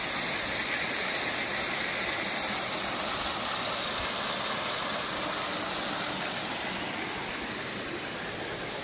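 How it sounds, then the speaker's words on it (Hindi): An artificial waterfall in a state botanical garden in Bhubaneswar gives a dense, steady hiss and rush of falling water, close and unbroken, with no voices over it. "देखो बहुत सुंदर वाटरफॉल जहाँ आर्टिफिशियल तैयारी होती"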